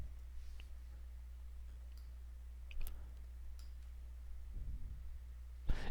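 Faint computer mouse clicks during Adobe Lightroom work: a few isolated, quiet clicks spaced apart over low electrical hum in a quiet room.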